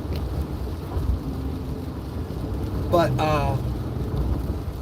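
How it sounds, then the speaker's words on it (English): Heavy rain on a car crossing a bridge, with passing traffic throwing water from the road: a steady, dense rushing wash fills the whole stretch, and a voice speaks briefly partway through. "I don't know if it's raining as bad as what I think it is right now."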